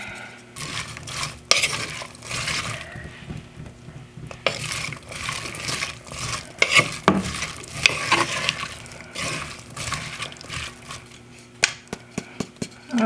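Napa cabbage is stirred while cooking in a pan, with irregular scraping and clinking of a utensil against the pan over a faint sizzle, punctuated by sharper knocks toward the end.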